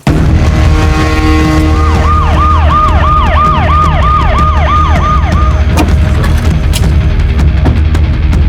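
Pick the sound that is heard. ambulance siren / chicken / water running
ambulance siren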